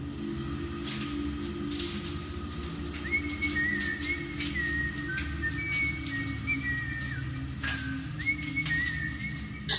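A person whistles a melody while soaping up and bathing, with sustained whistled tones over a steady wash of running water or background noise, alone with no talk.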